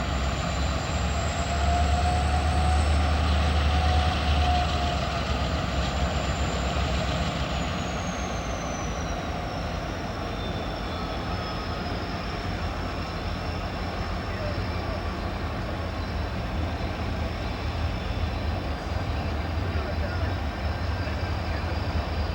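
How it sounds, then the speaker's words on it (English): A Union Pacific SD60M Triclops locomotive leads a stack train through Roseville, trailed by a tunnel motor and two SD90MAC-H units. It gives off a steady, loud diesel rumble and a drawn-out whining tone, while a voice narrates over it. "this Triclops is leading a very interesting consist on this stack train"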